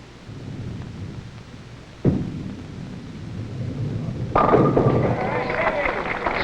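In a 1967 PBA Miller High Life Open match, a bowling ball strikes the pins for a strike: a sharp crack, then a louder broadband crash that rattles on against a rumbling hall background.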